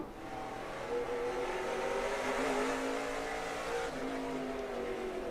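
Race cars running three wide at Stafford in an SRX Series heat, a sustained, loud engine roar with rising and falling revs as the pack passes, heard alone without commentary.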